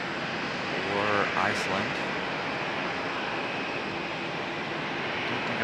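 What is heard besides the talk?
Delta airliner taxiing to an airport gate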